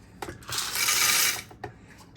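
A Krups grinder grinds coffee beans in a single loud, rough whirring burst of about a second, with soft clicks and handling noises before and after.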